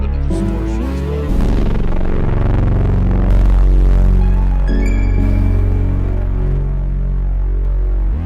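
A loud, dirty distorted bass synth drones and throbs continuously, thick and buzzing, with sustained low notes filling the whole stretch.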